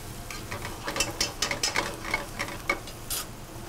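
Shallots and fresh thyme stirred in a hot pan, a spoon scraping and clicking in a quick irregular run of light taps over a soft sizzle, close and fairly quiet.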